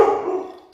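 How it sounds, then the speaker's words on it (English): A dog gives one loud, close bark that fades out quickly, followed by a brief faint click. "my dog is pretty excited about probably a FedEx truck outside delivering something"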